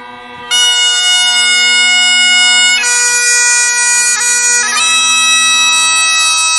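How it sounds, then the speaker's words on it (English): Medieval bagpipe with a goat or sheep skin bag and reed pipe, a loud steady reedy drone with a bright chanter melody held throughout, playing alone after a soft start. "Here is the sound of a bagpipe."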